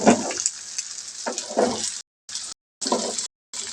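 Fish fries in a pan, a steady hiss and sizzle with splattering bursts, broken by short moments of complete silence.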